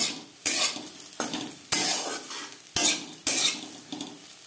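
Crispy potato slices frying in a little oil with green chilies as they are stirred, a steady sizzle cut by several sharp scrapes and clanks of a metal spatula against the pan, close and fairly loud with no talk.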